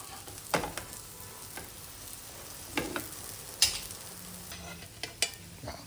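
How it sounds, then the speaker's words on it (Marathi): Sweet potato tikkis fry in ghee in a pan, giving a soft, steady sizzle up close. Scattered clinks and scrapes from turning them come through at irregular intervals. No one speaks. "आता वर पुन्हा आपण त्याच्यात तूप सोडलेलं आहे आणि ह्या पुन्हा परतून घेऊन पहिल्या जशा छान झाल्या"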